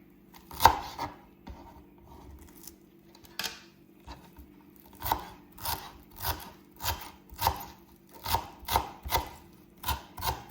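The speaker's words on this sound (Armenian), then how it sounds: "Փորձենք մանր կտրատենք" Vegetables being finely chopped for tabbouleh salad, a knife striking a board in sharp close chops, scattered at first and then settling into a steady rhythmic series.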